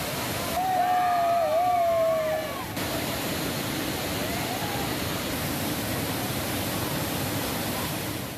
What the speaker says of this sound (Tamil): பெய்து வந்த தொடர் மழை சற்று குறைந்த நிலையில் திற்பரப்பு அருவியில் நீர்வரத்து குறைந்தது.